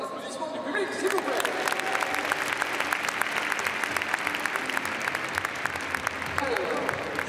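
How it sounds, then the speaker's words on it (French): A crowd in the stands at an outdoor show jumping competition claps steadily and loudly, the sharp individual claps standing out in a sustained wave of applause, with scattered voices underneath. "est-ce qu'on peut avoir des applaudissements du public, s'il vous plaît?"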